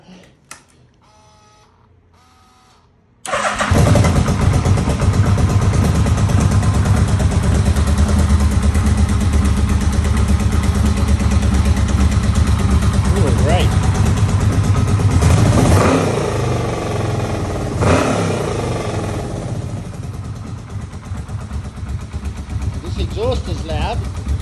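Yamaha Vmax motorcycle, in rough condition, fired up after its airbox is refitted, its loud engine and exhaust roaring steadily and revving in swells for about twenty seconds, close by.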